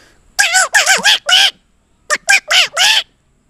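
A man imitates a noisy flock of parrots with his voice, giving two bursts of shrill, warbling squawks. Four calls come, a short pause, then four more, loud and close, with no other sound behind them.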